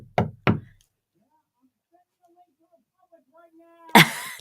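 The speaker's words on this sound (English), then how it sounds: "Do you want me to knock 3 times?" Knuckles knock sharply on a hard surface twice in quick succession, then after a quiet pause a louder single thump follows, close and clear.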